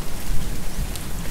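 Hail falls on grass and a newly laid sidewalk during a storm, making a steady dense patter close by with a low rumbling wash beneath it and no voices.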